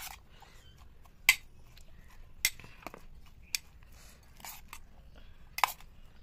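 Chopped tomato, onion and chili being mixed in a bowl: a few scattered clinks and soft scrapes of a utensil against the bowl, sparse and fairly quiet over a low background hum.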